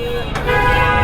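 Car horns honking amid a traffic jam near a garage fire at Khilgaon Taltala market, with sustained loud tonal horn blares over rumbling engine noise, close by.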